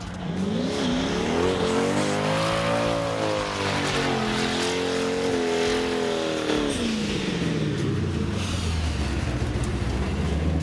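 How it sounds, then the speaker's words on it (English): A twin-turbo V8 Nissan S14 drift car does a warm-up burnout at a drifting event, its engine roaring loud and sustained with rising and falling revs over continuous tire squeal and rumble. "Nice warm-up burnout here from the twin-turbo V8."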